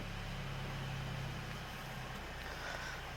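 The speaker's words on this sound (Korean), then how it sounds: "엔진 소리 정말 건강하고요. 시동 잘 걸립니다." A Mercedes-Benz C200 Cabriolet engine idles with a low, steady hum, quiet and unchanging over a few seconds.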